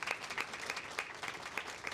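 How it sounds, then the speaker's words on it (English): Sparse applause from an audience at a chamber of commerce education and workforce summit, a handful of distinct claps spaced apart, faint and distant with no voices. "please join me in giving our incredible panelists a round of applause"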